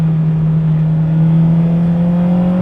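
A Honda Civic Type R EP3 fitted with SuperPro poly bushes cruises along, its engine giving a steady, loud droning hum from inside the car with a faint rising tone and road rumble beneath.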